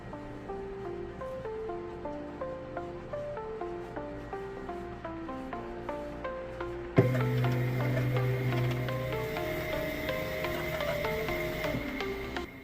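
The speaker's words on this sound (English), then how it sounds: "It's going to send to the printer." A Flashforge AD5M 3D printer prints a flower pot, its stepper motors singing steady shifting tones in a patterned rhythm, joined midway by a louder, brighter motor whine, up close with no talk.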